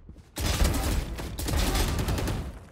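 Gunshots in Valorant: a sudden loud burst of rapid fire that starts abruptly and keeps rattling densely for about two seconds, close and dominant, with no talk over it.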